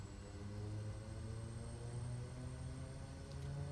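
A propeller aircraft engine held at high idle with props full forward in Microsoft Flight Simulator 2020, a steady droning hum with layered tones that stays even and continuous throughout, moderately quiet, with no voices.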